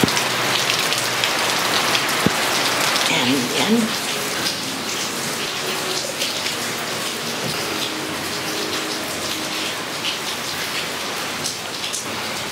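Heavy rain pours down outdoors in a dense, constant hiss of drops on surfaces, loud and unbroken throughout, with a brief spoken word and a faint voice early on.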